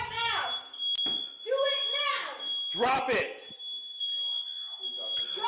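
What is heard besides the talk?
fire alarm beeping, set off by gun smoke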